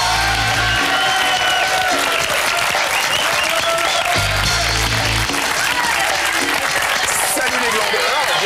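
A studio audience at a French comedy show applauds two webmasters, François and Grégory: dense, loud, sustained clapping with crowd noise that fills the whole stretch without a break.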